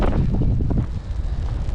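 Wind blowing across an Icelandic lava field near Dimmuborgir, a steady loud rumbling roar buffeting the microphone throughout, with no talking.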